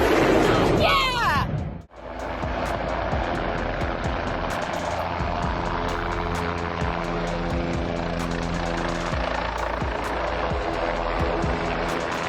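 A helicopter in flight: steady, droning rotor and engine noise with layered tonal hum and rhythmic blade chop, loud and continuous after a brief burst of other noise and a sudden cut at the start.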